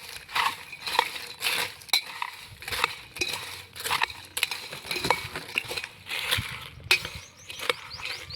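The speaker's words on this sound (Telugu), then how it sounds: "ఇప్పుడు స్పూన్తో మిక్స్ చేస్తాం." A spoon stirring a fried snack mixture in a bowl, giving repeated scraping, clinking and crunchy rustling strokes in an irregular rhythm, close and fairly loud with no talking.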